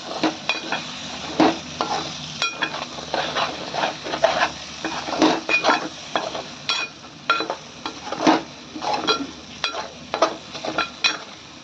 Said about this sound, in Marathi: आता आपल्याला तो चांगला परतून घ्यायचा आहे